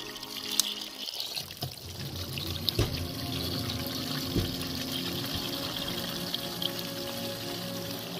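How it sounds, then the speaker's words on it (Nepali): Cold water runs steadily into a container outdoors at a mountain campsite in rural Nepal in winter, a continuous close pouring and trickling with no talking. "पानी भर्न हाल्छु म"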